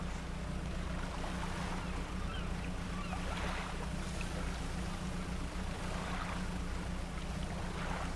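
A boat glides over open water in a video game, a steady low hum of the hull and engine under constant washing waves and wind-like noise, even and unbroken throughout with no voices.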